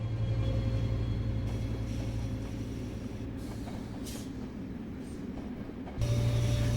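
A Metrolink F125 modern diesel locomotive in Train Sim World 4 runs with a steady, fairly quiet rumble and hum, a faint tonal whine and soft rail noise throughout, with no voices.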